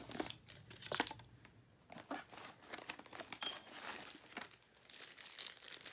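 Paper packing from a Canon G7X Mark II camera box crinkles and rustles up close in repeated uneven bursts, with no talking.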